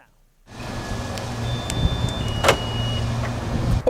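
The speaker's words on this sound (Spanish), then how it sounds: "presionas el botón de desbloqueo en el mando de la llave, hace este sonido" Faint electronic chirps and short tones from a Lamborghini's key fob unlock sound over a low, steady car hum, close by.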